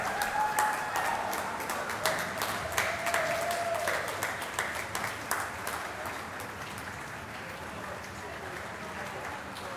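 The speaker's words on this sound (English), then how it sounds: "Stand up and give them a round of applause." An audience applauds a Hall of Fame cheerleading squad at a 25th anniversary ceremony in a Masonic Temple, sustained clapping filling the hall, with a few whistles and some voices mixed in.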